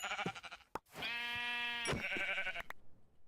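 Sheep bleat in a Minecraft-style video game, one drawn-out bleat in the middle with shorter bleats before and after, clear and close.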